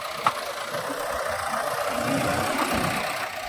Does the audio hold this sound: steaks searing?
no